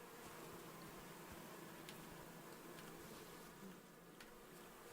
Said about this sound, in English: Oh, are these bees for honey?